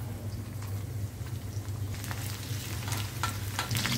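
Crushed, finely pounded garlic frying in plenty of hot oil in a kadhai, giving a steady close crackling sizzle that grows busier with sharper pops toward the end, no talking.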